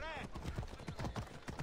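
Horse hooves clip-clop in a steady walking rhythm in Assassin's Creed Odyssey, close and clear, with a voice talking over them.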